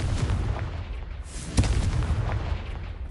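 Confringo blasting spell explosions in the Hogwarts Legacy video game, a dense run of booming blasts with a sharper, louder burst near the middle over constant low rumble.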